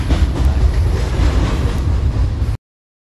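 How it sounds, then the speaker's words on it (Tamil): A train rumbles steadily past at close range, a continuous low roar with faint clattering wheels, then cuts off abruptly. "ட்ரெயின் வந்துருச்சு, நாங்கள் கிளம்புறோம்."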